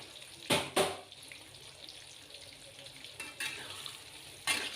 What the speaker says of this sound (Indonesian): aku udah panaskan minyak goreng, kemudian aku mau goreng terong